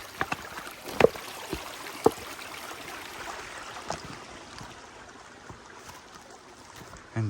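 Flowing water at a creek crossing on state game lands, a steady soft rush punctuated by occasional splashes and knocks from wading footsteps.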